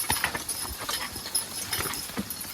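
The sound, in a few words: young draft horses hooves while being driven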